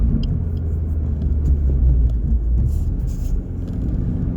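Suzuki Swift Sport Hybrid (ZC33S, K14D engine) with an aftermarket exhaust and lowered suspension, heard while driving as a steady low engine and exhaust drone with road rumble, rising slightly partway through.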